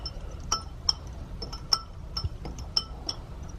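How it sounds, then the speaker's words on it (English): Egg wash being whisked in a bowl, giving a run of light, irregular clinks of the whisk against the side, quiet and close over a faint background. "And then just whisk this a bit to make the egg wash."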